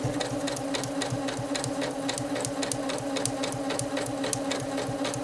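A Janome 8077 sewing machine stitches steadily, giving a close, fast, even run of mechanical ticks over a humming motor that continues without a break, with no talk.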